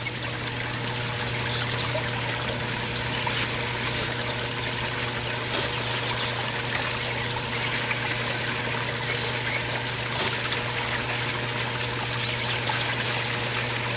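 Steady rushing flow of water and gravel overfeeding a sluice box outdoors, a continuous dense wash with a few brief splashes, no voices.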